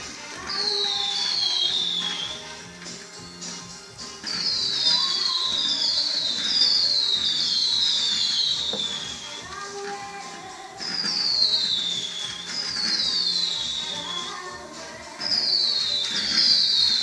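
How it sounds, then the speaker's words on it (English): Fireworks shriek with repeated descending whistles in bursts every few seconds, over a constant crackling rumble of distant explosions. "So more fireworks."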